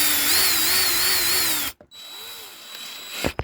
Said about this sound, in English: let me grab my little drill here and the correct bit, which is the T20